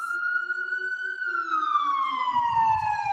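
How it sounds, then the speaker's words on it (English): An emergency vehicle siren on a busy city street wails in one long, loud tone that slowly falls in pitch, with faint traffic rumble coming in toward the end. "let's just wait for this siren to go down"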